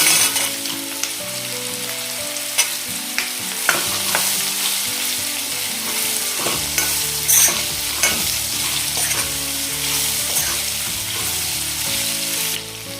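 Fenugreek seeds stirred into hot oil in a pan for a sweet, sour and spicy raw mango methamba, steady close frying sizzle with repeated scraping stirs throughout, no voices.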